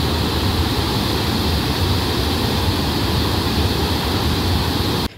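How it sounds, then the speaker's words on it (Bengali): Rushing water from a waterfall near Dhanbad, Jharkhand, a loud, dense, unbroken roar heard close up with no voices, cutting off abruptly at the very end. "তো দেখো জলের স্রোতটা দেখো এই মুহূর্তে।"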